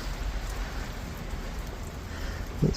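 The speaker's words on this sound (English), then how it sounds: "And there's the rain I was talking about" Rain falls outdoors as a soft, steady hiss of drops, fairly faint and even throughout, with a small knock near the end and no talk.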